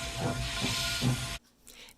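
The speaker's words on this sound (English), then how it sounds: "I boarded the Kettle Valley Steam Railway behind Canadian Pacific steam locomotive number 3716" A loud, steady hiss of venting steam from Canadian Pacific steam locomotive 3716 on the Kettle Valley Steam Railway fills the air, then cuts off abruptly, leaving quieter background sound.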